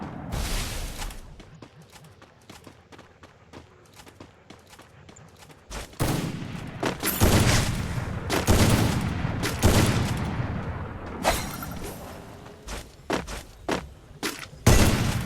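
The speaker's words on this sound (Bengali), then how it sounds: "দেখেন আমার স্নাইপার খেলা।" Sniper rifle gunshots ring out in a video game, sharp loud cracks repeated through the stretch, with denser bursts of firing and impacts in the second half.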